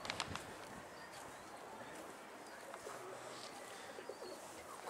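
Pigeon cooing in an outdoor loft setting where racing pigeons land, soft and intermittent over steady background noise, with faint clip-clop-like sounds and no clear speech.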